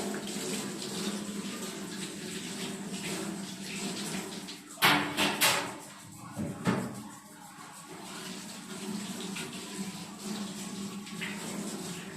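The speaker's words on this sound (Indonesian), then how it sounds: "Setelah itu kita bersihkan lagi dengan air mengalir." Tap water running steadily to rinse surgical instruments in an operating-room sterilization area, a continuous moderate hiss with a few brief louder splashes and clatters midway.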